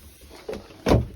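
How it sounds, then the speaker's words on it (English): A drawer slides out of a boat's cabin furniture with a short scrape, followed by a louder wooden rumbling thud as it comes free, close by and with no talking. "See, we've taken the drawer out."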